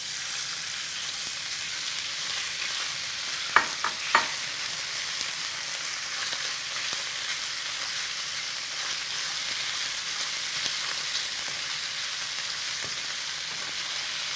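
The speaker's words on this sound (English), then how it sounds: "So you need to keep frying this" Meat sizzles and crackles steadily in hot oil in a pot, a continuous frying hiss with a couple of brief clanks partway through.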